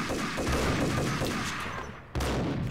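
Dense, continuous gunfire in a Max Payne shootout, loud and close, with a fresh burst near the end and no talking.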